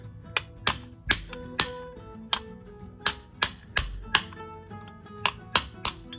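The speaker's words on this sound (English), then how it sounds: "We only need to hammer that in lightly enough just to get the retaining clip on." Metallic hammer taps on a socket, driving a shaft into a Yanmar 3YM30 raw water pump housing, ring out at an irregular pace, about a dozen sharp clinks, close and clear with no talking.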